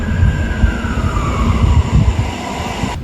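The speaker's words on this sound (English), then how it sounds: "We're just about to have a look and see what this red train coming towards us is." A red passenger train pulls into a station platform in Poland, a loud close rumble of wheels and carriages with a faint rising squeal over the steady roll.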